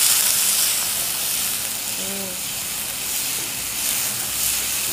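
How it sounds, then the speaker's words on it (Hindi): Ginger, garlic, white cumin and curry leaves fry in a pan over a low flame, giving a steady soft sizzle and hiss. A brief tonal sound comes in midway. "फ्लेम को कम कर देते हैं तो इसको डाल के थोड़ा सा हम इसको भूनेंगे।"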